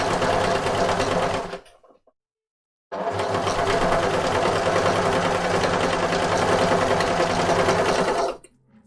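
A sewing machine stitching an undershirt runs in a loud, rapid whir, stops for about a second, then restarts and runs steadily until it halts as the bobbin runs out, with no talking over it.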